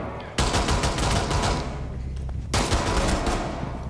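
Rapid bursts of pistol fire in a ranked shooter match crackle in two loud volleys, dense and close, with sustained rattling between the onsets.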